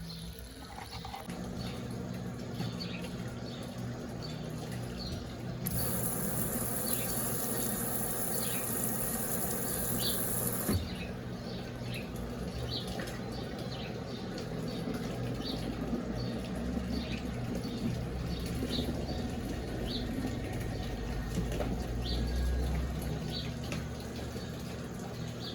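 A Brastemp Eggo 1 kg mini washing machine (BWI01) drains its water in a steady, continuous rushing flow, close and moderately loud, with a brighter hiss partway through and no talking.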